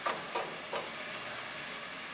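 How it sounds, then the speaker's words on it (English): Onion sautéing in a pan for stuffed calamari, a soft, close sizzle with three quick stirring scrapes near the start, then a quiet steady fry. "it don't need really to saute too long"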